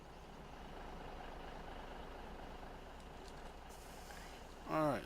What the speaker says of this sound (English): let's get our truck, which is over here